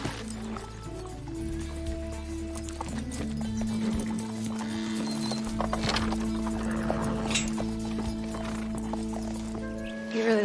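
A horse walks with steady clip-clopping hooves, fairly close and continuous, with an occasional snort or whinny over a low ambient music bed; no one speaks.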